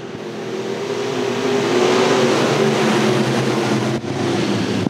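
IMCA Northern Sport Mod race cars accelerate at the start of a dirt track heat race, a loud sustained engine roar that swells and holds, close by, with no talk over it.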